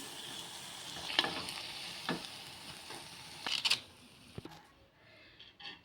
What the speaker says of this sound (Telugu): కొంచెం ఫ్రై చేసుకుంటాను నేను